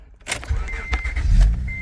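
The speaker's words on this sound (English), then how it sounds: "you start the car now" Acura or Honda car started with the ignition key: a short keyed crank and engine catch with a faint electronic chime, heard close and alone in a quiet cabin.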